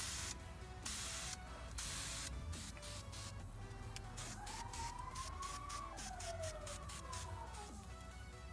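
Short bursts of aerosol spray paint hissing onto brake calipers for a yellow second coat, several separate sprays with brief pauses between them, close and fairly loud.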